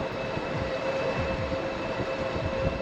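Constant rolling road and wind noise with a faint steady whine from a Lectric XP 3.0 electric bike at 27 mph, smooth and unbroken throughout.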